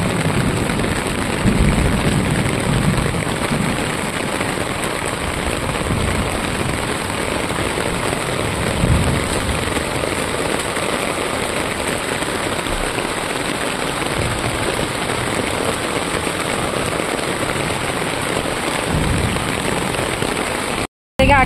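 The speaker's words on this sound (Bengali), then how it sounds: "এত বৃষ্টি হচ্ছে সন্ধ্যে থেকে কন্টিনিউলি" Heavy evening rain pours continuously, a loud, dense hiss and patter on surfaces that stays steady and close for the whole stretch before cutting off abruptly.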